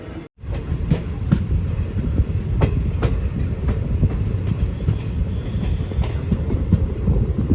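The Silchar to Agartala Express runs on its tracks with a steady broadband rumble and faint periodic clickety-clack from the wheels, heard from inside the moving train with no talk.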